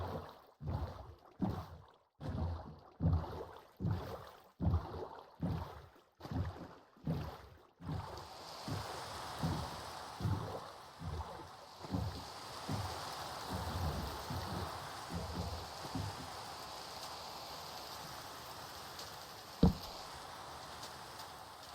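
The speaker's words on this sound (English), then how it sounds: "It's still raining over there" Rain falls in the Minecraft video game as a steady hiss, with a run of rhythmic knocking thumps at the start before it settles into an even patter, faint throughout and with no talking.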